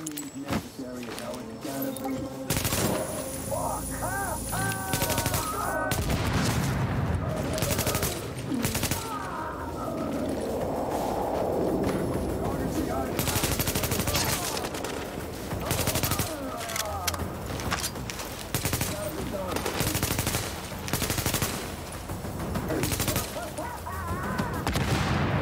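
Repeated bursts of automatic rifle fire and scattered shots ring out at close range in The Division video game during a snowy mission with fire, aimed at enemy backpack air tanks, running almost nonstop while a player talks throughout.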